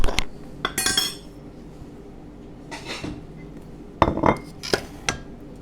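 Chocolate tarts set onto a plate, with sharp clinks of crockery and cutlery in a few clustered bursts separated by quieter gaps.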